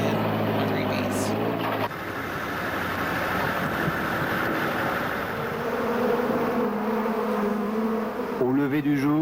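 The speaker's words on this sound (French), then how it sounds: "this noisy cloud of 160 million hungry bees" A dense swarm of 160 million hungry honeybees buzzes loudly and continuously around trucks in California at dawn, a thick steady drone with voices heard over it at the start and end.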